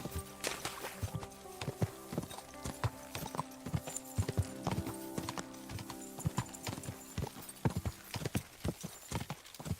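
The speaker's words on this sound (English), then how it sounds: "This horse." Horse hooves clip-clop in steady, rapid rhythm within the medieval video game Kingdom Come Deliverance II, loud and close with repeated sharp strikes over a continuous background bed.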